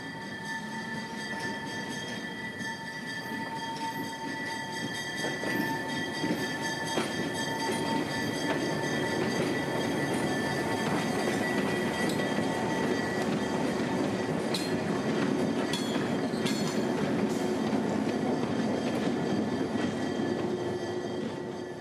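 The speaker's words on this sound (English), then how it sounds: "our train comes into view, passing the switch and pulling up right to the platform area." A museum train rolls slowly over a switch and pulls up to the platform, its wagons rumbling and clacking steadily with recurring high wheel squeals, loud and close throughout.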